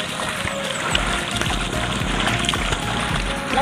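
Someone swimming in shallow sea water off a sand beach resort in Ginatilan, Cebu, with steady broadband splashing and sloshing, a few sharper splash bursts, and constant surf wash behind.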